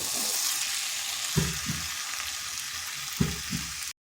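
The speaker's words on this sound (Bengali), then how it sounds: "লাউটা ভালোভাবে কষে নিয়েছি" Bottle gourd stir-fried in a pan makes a steady close sizzle, with two pairs of soft scraping stirs from a spatula, alone without talk, cutting off abruptly at the end.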